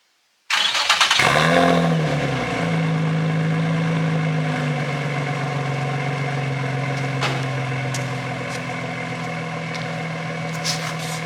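A Nissan 350Z engine cranks and catches, then settles into a steady, close idle with a brief early rev, running loud and continuous with no talking.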